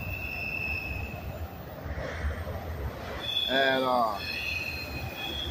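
Freight train hauling auto rack cars rolls past outdoors with a steady broadband rumble of wheels on rail, and a brief rising metallic squeal of wheels mid-clip; someone speaks a word briefly.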